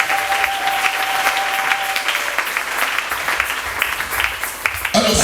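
A church congregation applauding the Lord, sustained dense clapping from many hands with a voice and a held tone heard at the start, ending in a brief louder shift.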